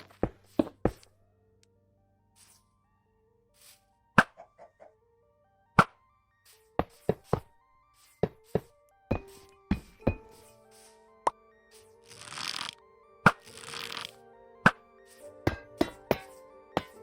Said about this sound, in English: switching up block placing sounds all the way to adding completely new sounds